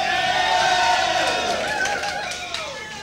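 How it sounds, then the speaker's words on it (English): Live pub-style band show crowd cheering and whooping for a man filming, loud and sustained with mixed shouts, tapering off slightly toward the end. "give him a bit of a cheer"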